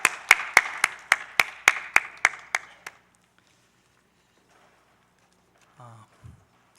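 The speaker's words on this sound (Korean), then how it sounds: "박수 올려드리겠습니다." A church congregation claps in a tight, even rhythm, about ten sharp claps in quick succession that fade and stop abruptly, followed by near silence and a brief murmur of a voice.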